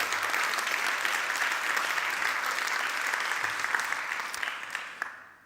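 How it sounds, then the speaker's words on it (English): Audience applause at an awards ceremony for public engagement with research, a steady dense clapping from a large crowd that holds for about five seconds before tapering off. "I'd be grateful if you could give them all a round of applause"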